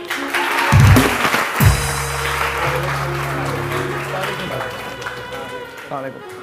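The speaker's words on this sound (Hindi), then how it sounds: "आ जाए वाजिद के लिए बहुत सारी तालियां।" Studio audience applause greets a guest's arrival on a morning talk show, a loud burst of clapping that carries on steadily under music and a voice calling out.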